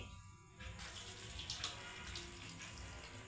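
Hot water is poured over dried chillies set to soak and runs as a steady close splashing stream for about three seconds after a brief quieter start.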